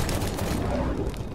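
Gunfire in Halo 5: Guardians: a dense rattle of shots and impacts at close range, loud and continuous through the short moment, with faint voices underneath.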